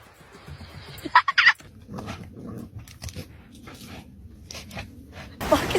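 A dog making excited growling, gobbling vocal noises in short bursts amid household commotion, loud and close.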